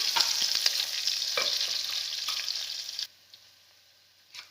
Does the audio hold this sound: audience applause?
no